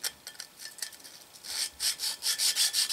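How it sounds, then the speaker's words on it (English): A small sharpening stone rubbed back and forth over the slotted jaw of a three-jaw lathe chuck to take off burrs, giving soft rasping strokes that grow louder and more regular toward the end, with no talking. "and stone it wherever you feel a little bit of a burr"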